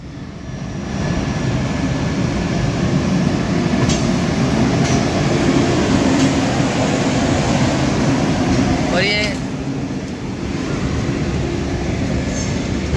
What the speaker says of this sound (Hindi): भारत की सबसे फास्ट ट्रेन।